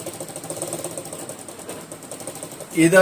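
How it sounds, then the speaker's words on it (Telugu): An empty treadle sewing machine, pedalled with no fabric in it, gives a steady rhythmic mechanical whirring and ticking up close, ending in a louder clunk. "ఇలా ఖాళీ మిషన్ తొక్కడం ప్రాక్టీస్ చేయండి."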